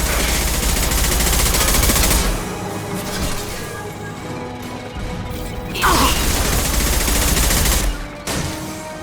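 Sci-fi weapon fire in a Mass Effect 2 firefight, loud sustained bursts of rapid gunfire with mechanical clatter, pausing briefly before another heavy volley and a final short burst.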